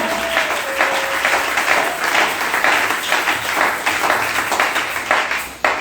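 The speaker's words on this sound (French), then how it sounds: "Acclamons encore pour lui." Church congregation applauding steadily, a dense wash of many hands clapping at even loudness throughout, with a faint high tone sustained briefly near the start and no speech.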